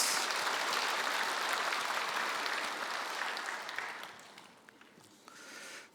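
A church congregation claps at a Christmas service, dense sustained applause filling the hall before thinning and tapering off near the end.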